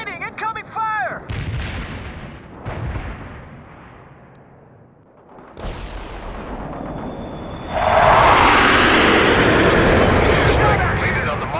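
Heavy artillery blasts and gunfire in the World in Conflict video game, several loud booms spaced apart, then a sustained roaring barrage; radio voices are heard amid the explosions.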